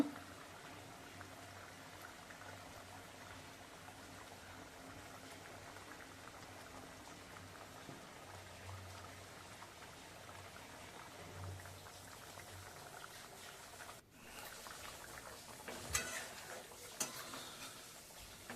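Fish curry broth of bhola and ribbonfish with green chillies simmers in a pot, a soft, steady bubbling that stays faint and continuous, with a brief clatter near the end.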